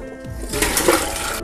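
Live crayfish being gently rinsed by hand in water, with a steady splashing and sloshing that swells in the middle and continues close by without talk.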